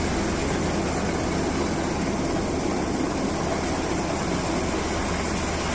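A U.S. Coast Guard rescue helicopter hovers over a cruise ship during an airlift at sea, its rotor and engine making a loud, constant, dense roar with no breaks throughout.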